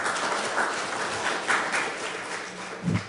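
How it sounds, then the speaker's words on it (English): Scattered audience applause at a women-in-business grants event, fairly faint and uneven, with a few louder bursts of clapping and no talking over it. "Give them a round of applause."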